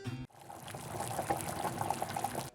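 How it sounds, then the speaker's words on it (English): Water being poured into a pot of mushrooms for cooking, a steady splashing stream after a brief knock, close and continuous for a couple of seconds. "I put mushrooms to the water and I cook rice."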